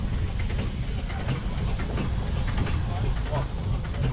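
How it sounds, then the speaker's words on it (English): An old John Fowler & Co. Leeds steam engine, number 17273, runs at an agricultural show with a steady close mechanical chugging and hiss that continues through the whole stretch. "Now look at this thing here, folks, an old steam engine."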